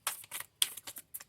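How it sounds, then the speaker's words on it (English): Quick, soft riffle shuffles of a deck of playing cards, heard in several separate bursts of crisp papery flutter with brief pauses between, close up and alone. "Just a smooth little shuffle and letting the cards do their thing."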